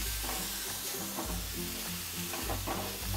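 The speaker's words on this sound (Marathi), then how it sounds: "हे बघा, आता हे चांगलं मिक्स करून घेतले." Mixed vegetables (cabbage, cauliflower, green chilli, carrot, potato and a few green beans) frying in a pan, with a steady close sizzle and scraping stirs throughout.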